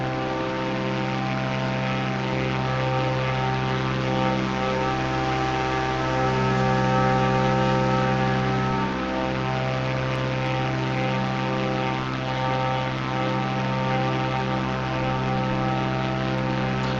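Propeller airplane flying in a video game, a steady droning engine hum with strong even tones and slight pitch shifts, loud and continuous throughout.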